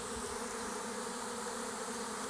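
A swarm of honey bees clustered in the shade of a mulberry tree hums in a dense, continuous buzz, steady and close, with no talking.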